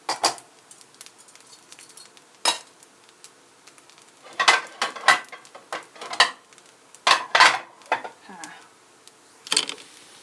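Thai omelette being dished from a pan onto a plate, with scattered metallic clinks and scrapes of a utensil against cookware, clustering into quick bursts between quieter pauses.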